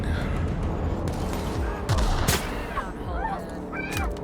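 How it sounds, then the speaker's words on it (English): Gunfire in The Outer Worlds video game: several scattered sharp shots and bursts at moderate distance, with honking, squawking creature cries mixed in over a steady low background. "Who's out here shooting?"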